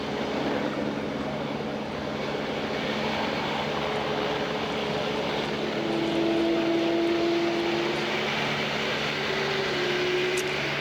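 An Airbus A350 XWB taxis toward the delivery centre parking stand, its engines giving a steady, fairly loud whine and rumble that holds level throughout with a faint rising tone near the end.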